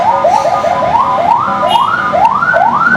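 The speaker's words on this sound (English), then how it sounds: "looks like an ambulance is stuck in the traffic over here" A loud wailing ambulance siren stuck in traffic in Bali, sweeping up and down repeatedly, close by, with a faint traffic rumble underneath.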